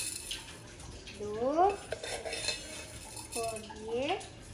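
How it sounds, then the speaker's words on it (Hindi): Spoonfuls of sugar going into tea in a home kitchen: light clinks of a metal spoon against a cup and dish, with a few short bursts of nearby voices in between. "कितने चम्मच चीनी डालनी है?"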